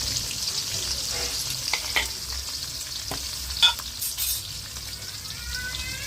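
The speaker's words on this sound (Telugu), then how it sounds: "నెయ్యి నూనె అయితే వేడెక్కింది కదా బిర్యానీ మసాలా వేసుకున్నాము తర్వాత అయితే ఉల్లిగడ్డలు వేసుకున్నాము పచ్చిమిరపకాయలు" Onions and green chillies with biryani masala fry in hot ghee and oil, a close, steady hiss with occasional spatula scrapes and a few sharper clinks against the pan.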